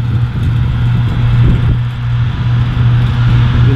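A Case IH Maxxum 110 tractor engine runs at a steady idle, a loud, low, continuous diesel drone with a strong hum and slight swells in level, no voices over it.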